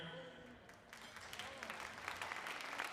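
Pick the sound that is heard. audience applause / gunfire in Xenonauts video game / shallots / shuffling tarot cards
audience applause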